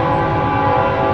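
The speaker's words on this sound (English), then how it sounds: "Oh, Salaki, this train's bypassing. It's a little loud" A passing train blares its horn in a loud, sustained, close-up tone that holds steady over the rumble of the rail cars.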